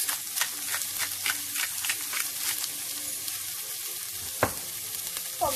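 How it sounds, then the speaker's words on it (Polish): Onion seasoned with salt and pepper fries in a pan for bigos, a close, continuous crackling sizzle broken by stirring scrapes and one sharper knock near the end. "Pomieszać i jeszcze 2-3 minuty posmażymy"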